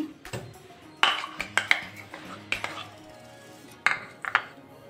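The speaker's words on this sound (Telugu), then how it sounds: "దీన్ని మనం ఇప్పుడు బియ్యం పిండి వేసి కలుపుకుందాం" Palm fruit pulp being mixed with rice flour in a bowl, a spoon clinking and scraping against the dish in scattered strokes, close and moderately loud.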